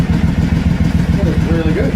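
A Triumph America motorcycle fitted with a booster plug idles after a cold start, its engine thumping in a steady, close, loud pulse while a voice speaks faintly over it.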